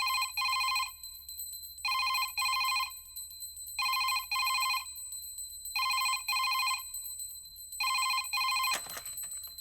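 An old-style telephone bell rings in clean double bursts, about five rings spaced evenly roughly two seconds apart, clear and prominent over a quiet room, ending in a brief clatter as the receiver is picked up.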